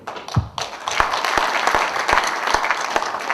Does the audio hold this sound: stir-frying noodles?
no